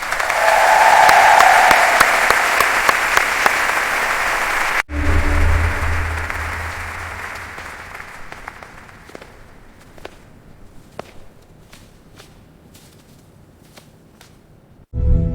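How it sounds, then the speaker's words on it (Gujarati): An audience at a Gujarati stage event claps to welcome three guests, dense loud applause that cuts off abruptly, followed by scattered faint claps, shuffling and footsteps, then a final burst. "દરેક પ્રેક્ષકગણ આપણે તાળીઓથી ત્રણેય મહાનુભાવોનું સ્વાગત કરીએ"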